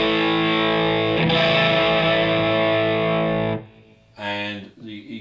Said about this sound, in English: it's just the Overdrive on by itself, you can hear a hint of dirt coming.